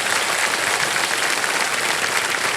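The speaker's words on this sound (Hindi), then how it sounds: "तालियां बज जाए इनके लिए एक बार फिर जोर से" Studio audience applause on a televised quiz show, a dense, steady roar of many hands clapping, loud and even throughout with no talk over it.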